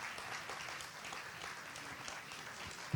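Applause for the teachers at a school annual day session, steady distant clapping from a crowd, fairly faint and even, ending with a single louder thump.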